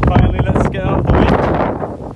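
Outdoor wind buffets the microphone with loud, continuous low rumble and gusts as someone talks throughout beside a used 2014 Peugeot 208 1.6 hatchback.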